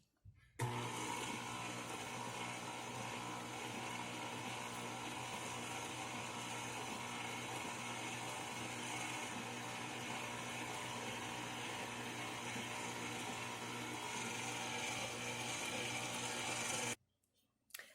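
An electric mixer blends cheesecake batter for mini strawberry cheesecakes in a bowl at low speed, giving a steady, continuous whir that runs unbroken for most of the clip and stops near the end.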